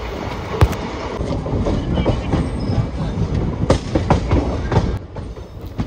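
Tungabhadra Express, a general-class passenger train, rolls toward Gadwal station with a loud continuous rumble and rattle of the carriages and a few sharper clanks over the joints, no talking.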